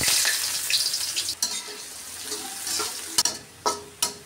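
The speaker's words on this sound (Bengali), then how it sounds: "এখন আমি পেঁয়াজ দিয়ে দিলাম।" Onions sizzle loudly in hot tempering oil with cumin and a dried chilli, a dense close fry with a few sharp stirring and utensil clacks, no talk.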